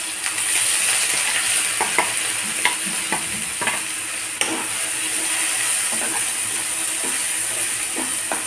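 Finely chopped onion masala fries steadily in a pan, a continuous bright sizzle broken by scattered clicks and scrapes of a spoon stirring, close and fairly loud throughout with no talking.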